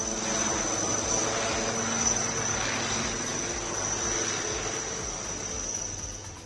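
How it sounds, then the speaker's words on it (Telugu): An HAL Dhruv-NG civilian helicopter on its first flight produces a steady engine and rotor drone with a thin high whine, holding at moderate loudness for several seconds and easing slightly at the end, with no speech. "పౌర విమానయాన మంత్రి రామ్మోహన్ నాయుడు ధ్రువ్ హెలికాప్టర్ తొలి ప్రయాణానికి జెండా ఊపారు."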